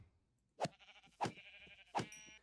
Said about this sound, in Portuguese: Sinto muito, ovelha bebê. Eu precisava daquela lã.